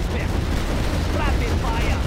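Spinning Gatling gun in the Command and Conquer Generals Zero Hour game, firing a dense, continuous rapid stream of shots with a heavy rumbling roar throughout, loud and close with no pauses.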